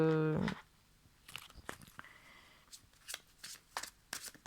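A tarot card is drawn from the deck, heard as a burst of quiet riffling and shuffling followed by soft, scattered card slides and taps, close and faint.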